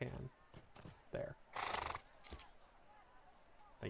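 A horse in the online game Lord of the Rings Online gives a loud whinnying neigh amid hoof clip-clops and game ambience, with a player talking over it.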